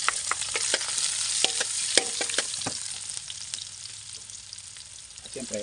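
Garlic and onion sauté in a hot pan for a tomato topping for fried milkfish, giving a steady close sizzle broken by frequent scrapes and stirring clatter.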